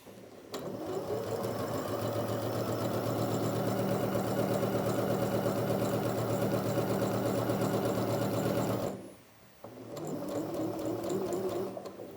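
A sewing machine running a long basting stitch at stitch length 5, a loud steady mechanical whir for about eight seconds, a brief stop, then stitching resumes, with no voices.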